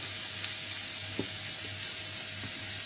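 Food frying in oil while being stirred in a pan, heard as a dense, even sizzle close by, with a few soft knocks of a spoon against the pan and no talk.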